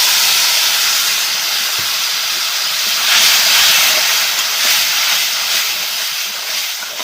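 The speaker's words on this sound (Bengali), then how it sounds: "ভালো করে নাড়াচাড়া করে নিচ্ছি মশলাগুলোকে।" Spices and cooked moong dal are stirred in a hot pan with okra, giving a steady, loud, broad sizzling hiss that swells slightly midway, with no voices.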